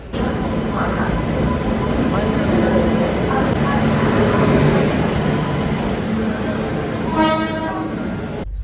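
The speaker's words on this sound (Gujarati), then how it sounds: "તો ભાઈ ફાઇનલી ટ્રેન આવી ગઈ" Continuous rumbling of a train pulling into a station, with a brief horn toot near the end.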